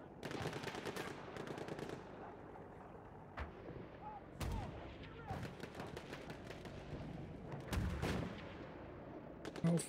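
Gunfire in a Divisions Incursions 5v5 match, with shots fired at long range into the Cherokee area: bursts of shots and sharp reports come repeatedly over a steady battle background, with some loud close cracks and commentary talk underneath.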